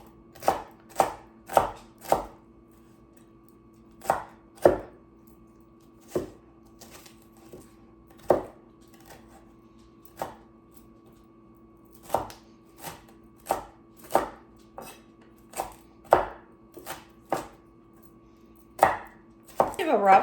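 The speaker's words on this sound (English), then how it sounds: "I'll give these a rough chop" Vegetables for a red lentil and fennel soup being roughly chopped with a knife on a board, sharp close thunks in uneven bursts with short pauses between them.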